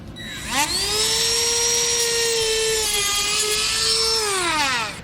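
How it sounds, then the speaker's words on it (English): A rotary tool whines continuously as it cuts the bumper fascia of a 2017 Tesla Model 3, a high, steady, close motor tone that spins up, holds for about four seconds with slight pitch wavers, then winds down. "We'll now make our cut with a rotary tool along the edge we marked."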